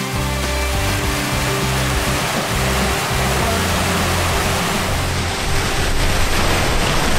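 Water pouring over a rock waterfall near a cave in the desert oasis of En Gedi, a steady, loud and broadband rush that continues unbroken from start to finish without any voices.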